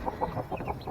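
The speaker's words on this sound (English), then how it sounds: "We have chickens that are about 7 weeks old." Seven-week-old backyard chickens cluck in a steady run of short, close calls with no voices over them.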